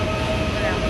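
A train at a station in Bonn sends out a steady, loud, broadband rumble with a sustained tonal whine running through it. The sound stays close and even for just under a second, with no clear start or finish.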